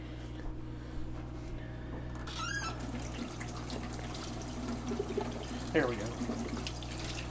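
Water pours from a tap onto hamburger meat in a pot for broth, a soft continuous splashing trickle under quiet talk, with a brief clatter partway through.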